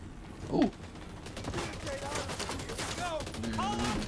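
Gunfire with incendiary fire bullets in The Division 2: a sharp shot near the start, then a steady rattle of weapons fire and game action, with voices talking over it.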